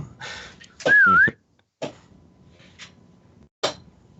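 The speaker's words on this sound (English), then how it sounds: "I whistle for them to come on up." A person gives a short, rising-and-falling whistle to call companions up, followed by a few faint knocks and thuds in an otherwise quiet room.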